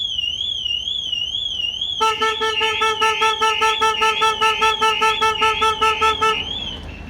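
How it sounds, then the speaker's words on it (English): A Starline S9v2 Solaris alarm fitted to a Renault Trafic van blares loudly, a warbling siren joined by a pulsing horn that sounds in rapid, regular bursts for several seconds before cutting off. "obviously you heard the horn and the siren and the other system was going off there"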